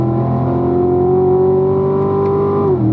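A race car on a track holds a loud, steady engine drone that climbs slightly, then drops in pitch near the end as it shifts up to fourth gear, close and continuous.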